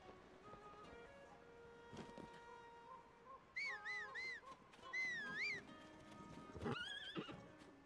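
A horse in a video game, Zelda style with Korok and Gleeok foes, gives several loud, clear neighs and whinnies over soft game music, with a few hoof clops and no talking.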